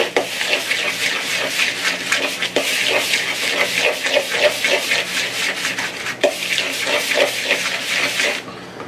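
Melted butter is stirred into a cheesecake crust mixture in a bowl, giving a steady rhythmic scraping and rubbing of the utensil against the bowl that stops abruptly at the end.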